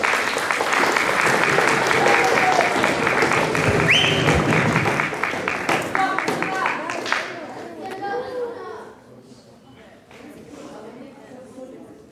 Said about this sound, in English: let's give one more round of applause for them.